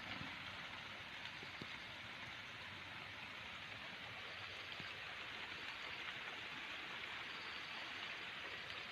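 Steady rain falling through a forest during mushroom foraging, a constant dense wash of drops with no breaks, close and even throughout.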